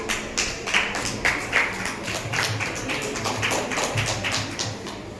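An audience at a school academic carnival claps in a sustained round of applause, dense and even, with a few louder bursts of clapping at the start.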